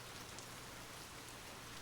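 Soft, steady rain patters in an even, continuous hiss, faint and close, with no voice or other sound over it.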